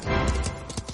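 Horse hooves clip-clopping from a Beauty and the Beast read-along as Maurice rides Philippe into town, a short run of close, steady clops.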